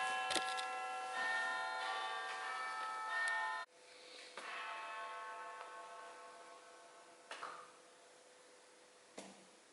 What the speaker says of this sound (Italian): That is the last bell of mindfulness.